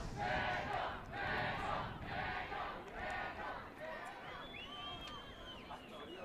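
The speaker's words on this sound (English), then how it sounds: "the crowd is loving this" A stadium crowd at a rugby sevens semifinal between JaCrocs and Mexico roars and chants in repeated rhythmic surges, some distance away, fading toward the end as whistles and scattered shouts rise.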